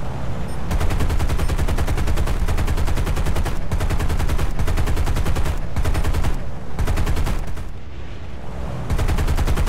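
Rapid sustained machine-gun fire from bomber gunners in War Thunder, a B-17 under attack by P-26 fighters, loud and continuous with brief gaps between bursts, no talking.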